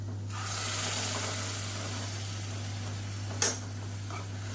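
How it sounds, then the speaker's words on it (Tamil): Tomato and coconut paste sautéing in a pan, giving a steady broadband sizzle with soft stirring and one brief sharp scrape near the end, close and alone with a constant low hum underneath. "அந்த தக்காளி தேங்காய் பேஸ்ட் வந்து சேர்த்துக்கலாம் சேர்த்துட்டு நல்லா வதக்கி விட்டுக்கலாம்"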